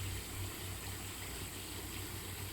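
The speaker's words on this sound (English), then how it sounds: "And there's my waterfall area." A garden waterfall flows with a steady, even rush of water that holds throughout, with a low hum beneath and no talking.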